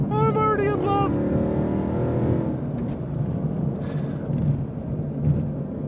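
A supercharged V8 in a Ford Mustang GTD drops a gear with a quick rising rev blip, then settles into a deep, loud rumble heard from inside the cabin.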